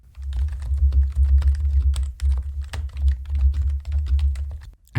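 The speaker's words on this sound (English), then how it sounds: "I'll show you what my old keyboard used to sound like." Rapid, continuous typing on an old computer keyboard, with dense irregular keystrokes clattering steadily and close up, heard alone without talk and cutting off sharply at the end.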